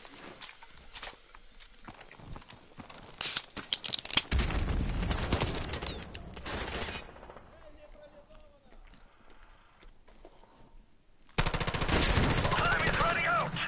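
Rapid machine gun fire in a video game, bursts of crackling shots mixed with running footsteps, while players chatter excitedly throughout.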